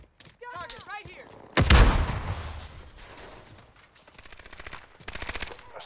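Gunfire rips through a Call of Duty Modern Warfare multiplayer match: a loud burst of shots erupts and rolls on with rapid automatic fire and booming impacts, layered with game voice lines and player chatter throughout.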